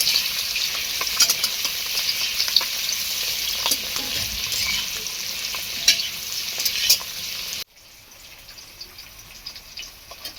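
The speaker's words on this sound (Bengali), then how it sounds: "এদিকে কড়াইতে আলু হচ্ছে চাপিয়ে দিয়েছি, এদিকে ভাজা হচ্ছে" Potatoes fry in oil in a wok, giving a steady, dense sizzle with bursts of crackle and occasional stirring scrapes, close and loud, until the sound drops abruptly to a faint low hiss near the end.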